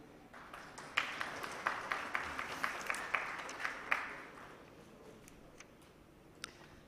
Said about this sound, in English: Ladies and gentlemen, a big round of applause for our entire panel.